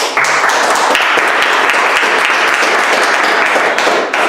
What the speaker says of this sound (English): I think that speech deserves a lot of applause